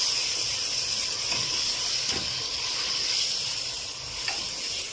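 Crushed red chili and coriander powder frying in hot oil for chicken pulao, giving a steady, close hiss of sizzling throughout with slight swells and no talk.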